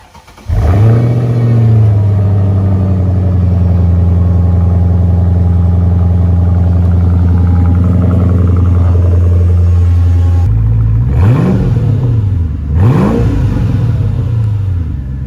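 A Mercedes E55 AMG W211 engine holds a loud, steady high-idle drone, then drops back and snaps through two sharp, close revs that rise and fall.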